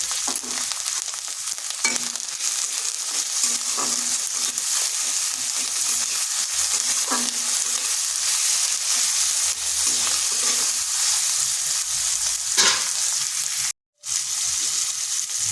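Ginger, garlic and tomato fry in a pan for a raw papaya and lentil dish, a continuous close sizzle broken by light stirring scrapes and taps.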